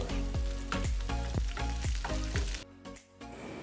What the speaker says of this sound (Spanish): Echamos la cebolla en juliana, le echamos una pizca de sal y vamos a rehogar esta cebolla durante 10 minutos.